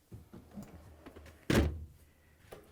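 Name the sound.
dishwasher door closing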